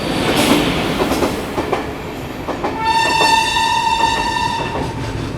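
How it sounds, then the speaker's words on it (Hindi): The Sachkhand Express overtakes on a bridge with loud rattling, clattering wheels, then a long, steady horn blast sounds midway and fades while the clatter continues. "सचखंड एक्सप्रेस हमारे आगे आगे निकल रही है।"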